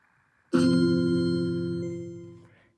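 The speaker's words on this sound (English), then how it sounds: "this tone vibrates at F3 or F4, depending on how you hear it" A synthesized tone built from stacked added harmonics, pitched around F4, starts abruptly after a short pause, holds as a bright, steady chord-like note and slowly fades out over about two seconds.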